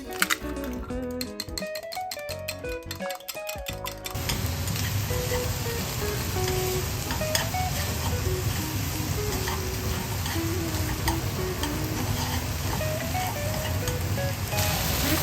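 Vegetables and onion stir-fry in a pan with a dense, continuous sizzle that grows louder after a few seconds, while light background music plays over it.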